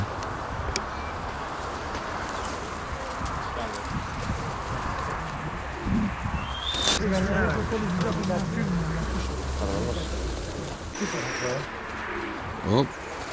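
Pigeons coo softly at a pigeon show in Volos, Greece, their low murmuring calls mixed with crowd noise and people talking nearby.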